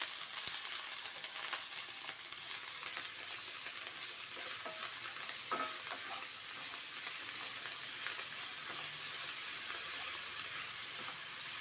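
Finely chopped amaranth leaves stir-fry in a hot pan, giving a continuous steady sizzle and hiss. Scraping stirs break through now and then, loud and up close.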